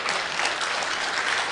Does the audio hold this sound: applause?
yes